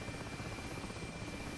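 An Mi-8 helicopter in the DCS flight simulator drones steadily, a continuous rotor and turbine whine with a dense low thrum, even in level and uninterrupted throughout.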